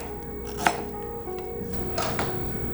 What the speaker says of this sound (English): Once it's nice and peeled, cut it to small pieces.